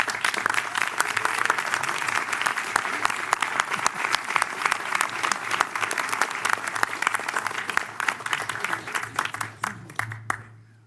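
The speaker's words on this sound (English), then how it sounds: "Well, clap is a little premature because that was to close the nomination." Attendees at an MPTA organizational meeting break into applause after a unanimous vote, a dense crackle of many hands that carries on steadily before thinning out and stopping near the end.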